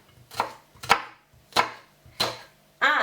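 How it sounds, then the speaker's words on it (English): Knife chopping through a small yellow onion on a cutting board, four sharp close thuds at an even, unhurried pace, followed by the start of a fifth. "I cut it like this, going on the ready lines that there are on the onions"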